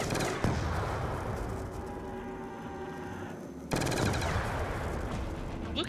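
Rapid automatic gunfire from a gun in Call of Duty Black Ops 2 Zombies rattles loud and close in two sustained bursts, separated by a brief pause.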